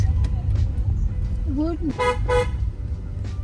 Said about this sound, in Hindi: ये देखिए कितना ट्रैफिक अभी तक नहीं रुक रहा।